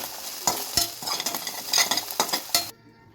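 Chicken pieces being stirred with salt, chili powder and coriander powder, a few sharp scraping knocks over a steady frying sizzle before cutting off abruptly.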